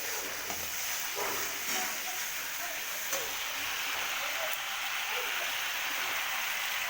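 Spices with salt and turmeric fry in a pan, giving off a steady, hissing sizzle that keeps an even level throughout, with faint crackles scattered through it.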